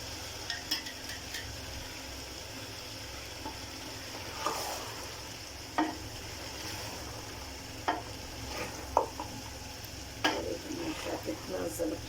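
Peshawari namkeen gosht, mutton slow-cooked until tender, stirred and frying with green chillies, giving a soft steady sizzle broken by scattered spoon scrapes and clinks against the pot.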